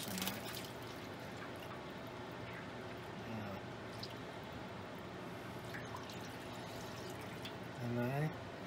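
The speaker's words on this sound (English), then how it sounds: "Let's pour this in there." Chicken broth poured into a hot roasting pan gives a soft, continuous liquid pour and sizzle, faint and close, with a brief splash near the end.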